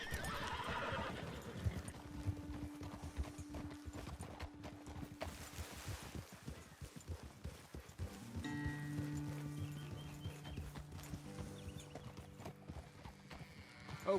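Horses ridden through open country in Red Dead Redemption 2, clip-clop hoofbeats under a steady outdoor rumble, with whinnies and snorts, brief voices and a swelling musical drone partway through.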